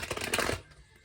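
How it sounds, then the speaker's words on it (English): A tarot card deck riffles in one quick, close shuffle lasting about half a second, then cuts off into near silence. "I'm going to go ahead and shuffle a few more times and split the deck"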